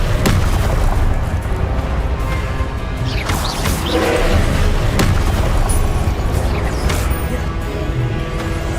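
Confringo fire-blast spells going off in Hogwarts Legacy, a rapid barrage of loud explosive booms and crashes mixed with other spell impacts, continuous and busy throughout.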